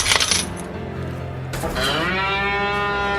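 A cow moos loudly and close by, a long drawn-out bellow that swells and holds to the end, preceded by a brief clattering burst and a shorter earlier call, with no talk.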